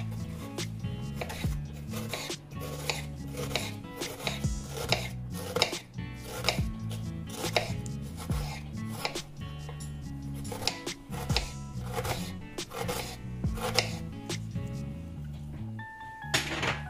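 A knife chops onion on a board in a fast, steady run of crisp, close taps, with brief rubbing and scraping pauses between bursts, no talking.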